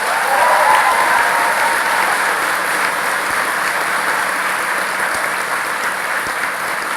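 A college commencement audience gives the faculty a long round of applause, dense, loud and steady clapping from a large crowd.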